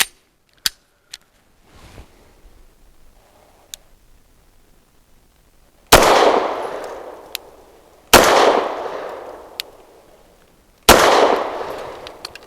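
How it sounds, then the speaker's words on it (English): Three loud, sharp gunshots from a Rock Island Derya Arms Melik, spaced a few seconds apart and each trailing off in a brief echo, after some earlier quiet clicks and handling ticks. "Nice shooting gun."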